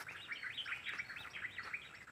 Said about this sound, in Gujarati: પક્ષીઓના કિલ્લોલ અવાજ કેટલો સુંદર લાગે છે